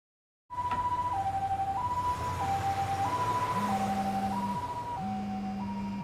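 An ambulance siren from the video game Lost Judgment wails loudly and close in a steady two-tone hi-lo pattern, alternating evenly about every half second, with a low engine drone underneath.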